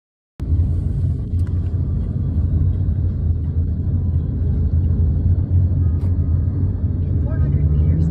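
A car drives over a bumpy road in Guyana, its deep rumbling engine and road noise holding steady and loud from start to finish, with no pauses.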